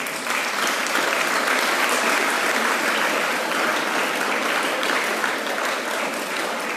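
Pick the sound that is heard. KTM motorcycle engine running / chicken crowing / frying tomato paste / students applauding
students applauding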